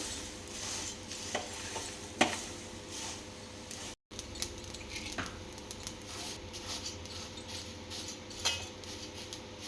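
Poha flakes and salt get stirred through in a pan, producing faint scraping and rustling with a few sharp spoon taps against the metal over a low background hiss, broken by a very short gap, with no talking.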